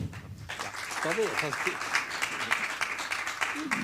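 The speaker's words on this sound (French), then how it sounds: "merci de l'applaudir" Applause from a conference audience greeting a speaker at an HR congress, steady broadband clapping throughout with some voices and a brief spoken tone mixed in near the start.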